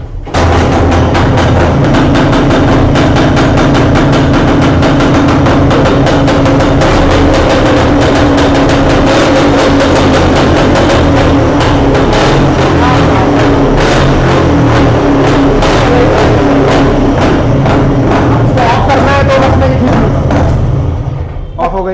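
A 1976 Rajdoot three-speed motorcycle engine starts and runs for about twenty seconds, its loud, dense thumping idle steady and close, with a few voices faintly underneath.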